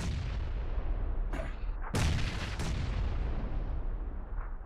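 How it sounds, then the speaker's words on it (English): A grenade goes off in the PUBG battle-royale game as one heavy, booming blast near the two-second mark. A faint shot comes just before it, all over a constant loud rumble of in-game ambience. "Ah, grenade."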